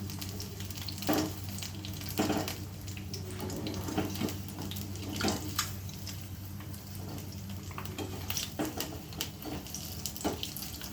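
Egg bondas frying in hot oil in a tea-stall style snack, giving a steady close sizzle and bubbling with occasional brief clatters from the pan.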